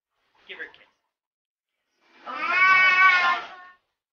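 A pet cat gives a short faint mew, then after a pause a longer, louder, drawn-out meow in a quiet indoor room.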